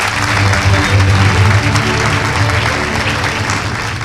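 Audience at an awards ceremony for a hadith and book reading contest applauding the teachers, a dense, loud burst of clapping that holds steady and eases slightly toward the end.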